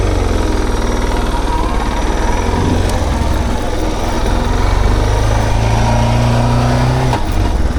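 A Suzuki DR650 motorcycle engine runs steadily at close range while riding, its loud drone rising and falling in pitch through gear shifts, with a brief dip near the end.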